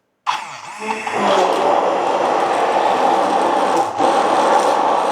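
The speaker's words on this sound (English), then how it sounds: "I'm using my immersion blender, but a regular blender works just as well." An immersion blender whirs loudly and steadily through a keto ice cream base, starting abruptly after a brief silence and running continuously with a short dip near the end.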